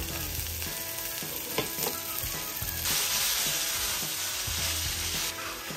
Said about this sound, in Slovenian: Na teh zapečenih ostankih na hitro popražimo pol.